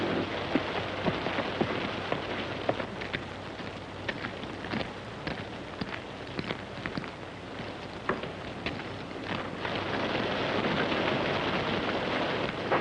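Heavy rain pours steadily onto surfaces in a storm, with dense pattering and occasional low thunder rumbles underneath; no voices are heard.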